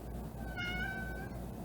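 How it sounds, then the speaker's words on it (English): An old, heavy female house cat meows once in a single drawn-out, fairly close call with a wavering pitch, heard on its own over a quiet indoor room hum. "I have a fat old lady cat sleeping on the bed"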